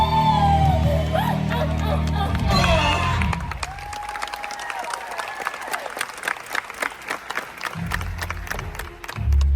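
A crowd at a Disney World villains stage show breaks into dense applause and cheering, taking over from music and voices in the opening seconds and sustaining a loud, steady clatter of clapping to the end.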